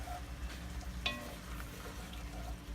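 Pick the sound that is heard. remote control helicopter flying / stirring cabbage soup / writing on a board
stirring cabbage soup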